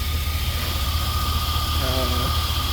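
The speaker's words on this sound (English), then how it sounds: "the truck's running pretty damn decent now. It's sitting here idling away outside." A truck engine idles steadily throughout, a constant low rumble with a faint higher whine on top and no break in the sound.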